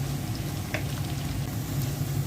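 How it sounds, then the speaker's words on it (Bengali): Onions frying in a pan with garam masala and bay leaves for a beef curry, giving a steady, close, dense sizzle that holds without a break. "পেঁয়াজটা ভেজে নিলাম।"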